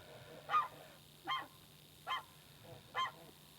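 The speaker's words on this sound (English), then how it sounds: "And the gooses come in." Geese honking outdoors in New York, four evenly spaced loud honks about a second apart over a faint background hum.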